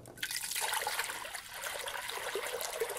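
Water rushes and splashes steadily into a container being filled for a sous vide cooking setup, a continuous close pouring stream with a bright, hissing texture.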